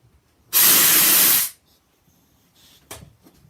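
A loud, steady burst of hissing air from an airbrush compressor lasts about a second, then cuts off, leaving quiet room noise and a brief clunk afterward.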